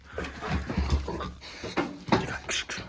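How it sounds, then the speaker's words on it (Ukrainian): A dog pants and snuffles close by beside a flexible auger for a gas-fired grain dryer, in quick breathy bursts with faint whimpers. "Собака поможник."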